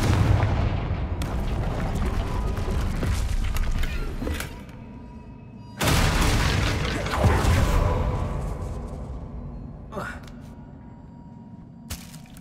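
A loud Confringo explosive spell blast in Hogwarts Legacy: a sudden booming burst that rumbles and fades over several seconds, followed by smaller crackling impacts and a sharp final pop, with game sounds beneath.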